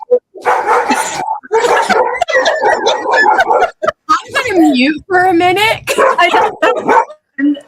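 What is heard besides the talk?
dog barking and coughing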